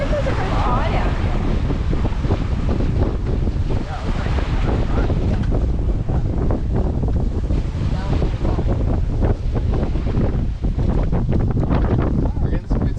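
Sailboat under way in good wind on the Sea of Cortez, with steady loud wind buffeting the microphone, rushing water and waves along the hull throughout, and people talking over it.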